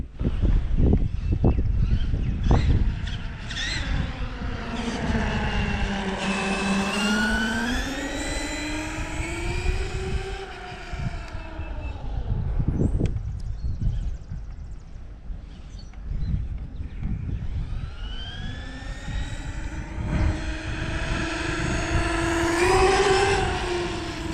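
Traxxas E-Revo RC car driving at speed on a road, a whining electric motor rising and falling in pitch as it speeds past and back, loud and continuous with faint background noise.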